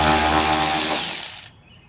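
A power tool on a 3rd-gen Tacoma backs out a 10mm self-tapping screw with a loud, close, high whine that winds down and stutters before stopping abruptly.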